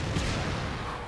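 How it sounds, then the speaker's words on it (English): Explosion in the video game Dead Rising 3, a brief, broadband boom that swells and rumbles loudly for about a second, with no talking. "It sounded like an explosion."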